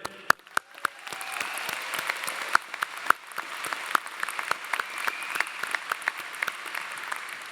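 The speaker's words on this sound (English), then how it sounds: "give yourselves a huge round of applause" Sustained applause from a large crowd at a university commencement ceremony, steady clapping with a few sharper claps standing out, continuing throughout.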